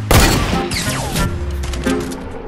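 Gunfire in the Fortnite video game, in a 50v50 match, with a burst of loud shots up close followed by scattered further shots and impacts.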